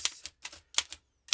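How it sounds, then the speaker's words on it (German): An Oliver 9 typewriter types in a quick, uneven run of about six sharp, crisp keystrikes with brief pauses between them. The strikes are close and clear, and no other sound is present. "Schreibmaschine."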